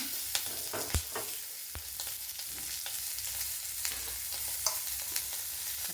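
Potato and capsicum pieces frying in a pan in a village kitchen, a soft continuous sizzle broken by sharp clicks and scrapes of stirring, fairly quiet and without talk.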